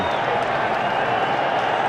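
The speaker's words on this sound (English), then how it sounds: "And listen to this crowd here, Pat." A football stadium crowd at a Giants versus Eagles NFL game cheers in a dense, sustained roar with a steady wash of noise throughout, loud and without break.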